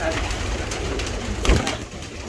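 Firozpuri pigeons in a loft give soft, low cooing over a steady hiss of background noise, with a brief louder flutter near the end.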